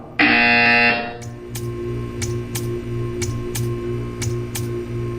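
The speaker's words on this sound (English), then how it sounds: "You will hear a buzzer." A loud electronic buzzer blares for about a second in the video game Portal 2, then gives way to a steady mechanical ticking with a low hum underneath.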